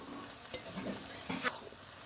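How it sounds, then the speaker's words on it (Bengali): Fried potatoes and banana flower are stirred into thick spice paste in a pan for a Bengali banana-flower dish, giving soft scraping strokes with a faint sizzle and one sharp clink of the utensil. "অনবরত নেড়ে চেড়েই কষাবো"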